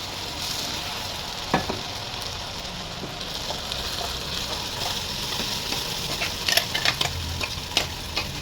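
Ground masala of coconut, onion, tomato and green chilli frying in coconut oil for kurma, a steady close sizzle throughout with scattered sharp crackles and pops, growing busier toward the end, with no talking.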